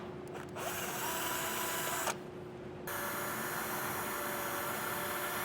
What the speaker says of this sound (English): we're just going to drill a hole through the center of that top hole in the bracket